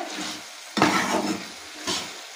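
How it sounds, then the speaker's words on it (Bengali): A pot lid lifted off a pan of simmering gourd-leaf greens in a home kitchen: a brief clatter and scrape, then a louder metallic clank with a short rattle and a softer knock at the end. "এবার ঢাকনাটা সরিয়ে দেখি শাকটা কতটা সেদ্ধ হলো।"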